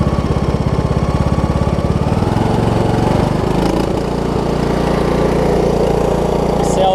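Single-cylinder engine on a Craftsman T2200 riding mower idling with a suspected head gasket problem, a loud, close, rapid chugging that settles into a smoother drone partway through.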